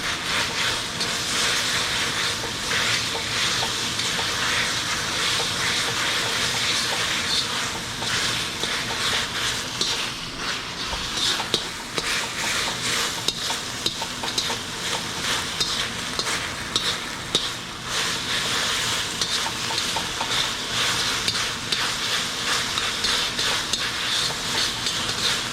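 Beef bulgogi sizzles and fries in a hot carbon steel wok while it is stirred, a dense, continuous hiss with scraping and spatula clatter throughout, loud and close, with no talking.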